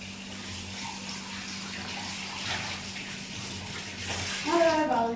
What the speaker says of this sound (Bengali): বাউল ধুয়ে নিচ্ছি।